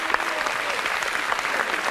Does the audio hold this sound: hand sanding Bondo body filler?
no